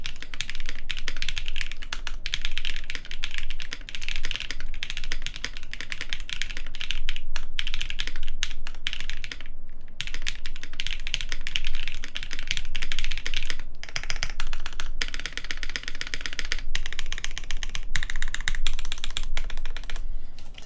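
Close, continuous fast typing on a CannonKeys Chimera65 R2 prototype mechanical keyboard with ABS keycaps: a dense stream of clacking keystrokes with brief pauses, heard alone.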